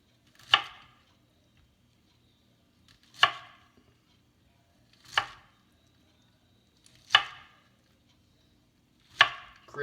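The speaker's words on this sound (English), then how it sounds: "And of course I'm going to cut this one too." A knife cuts through a mango on a board in five crisp, isolated chops, evenly spaced about two seconds apart, close and clear against a quiet background.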